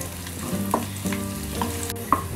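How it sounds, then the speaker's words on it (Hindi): Chopped ginger and garlic frying in oil with cumin while being stirred in a pan, a steady sizzle broken by several distinct utensil scrapes and clinks, close and without speech. "चलाते हुए हल्का सा पका लेंगे।"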